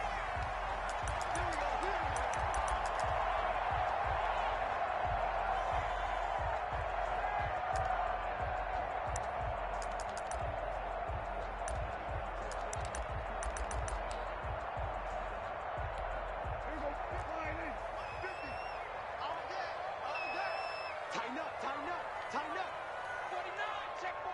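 A packed football stadium crowd roars and cheers before the Kansas City Chiefs take on the Dallas Cowboys, a dense, continuous swell of voices with scattered claps and bangs throughout.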